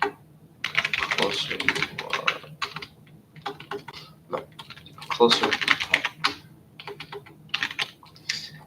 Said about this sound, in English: That way you guys can see what I'm typing.